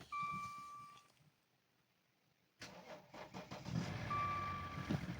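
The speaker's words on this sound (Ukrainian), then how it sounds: "Все, запуск мотора є." A restored project car's engine cranks and catches after a quiet pause, then runs roughly at idle nearby, with a brief tone at the start and clanks around it; the recording is faint overall.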